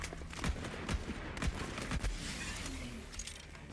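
Enemy gunfire in the video game Borderlands 3, a handful of evenly spaced gunshots roughly every half second, followed by quieter game ambience, heard at moderate distance with no speech.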